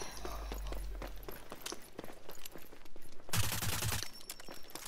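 Pistol gunfire in a video game, a run of sharp shots over busy game noise, ending in a louder burst of fire.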